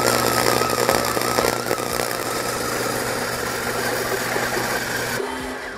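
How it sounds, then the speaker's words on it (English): A wire-feed welder running on steel gives a steady, dense, crackling buzz for several seconds before it cuts off abruptly near the end. "Let's do some more welding"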